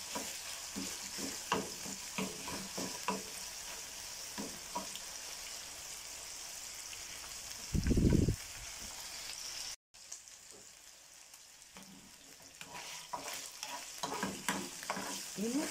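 Steady crackling sizzle of meat frying in a pan, with a short louder burst of spitting partway through and scattered pops, no voices.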